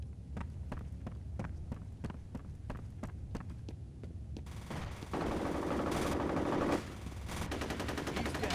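Gunfire in a F.E.A.R. Combat deathmatch on the Factory map starts as evenly spaced single shots, then gives way to a louder sustained rattle over a low hum.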